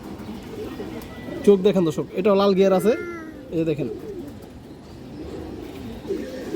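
Old-breed black pigeons coo in clear, rhythmic bursts close by, with someone talking over and between the calls.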